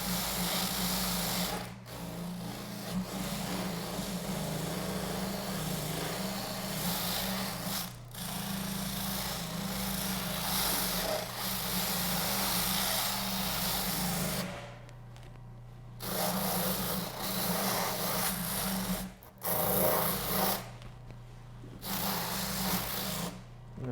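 A motorized fleshing wheel runs against a turkey tail while cleaning it, a loud steady whir with a low hum, broken by several brief pauses and changes in pressure.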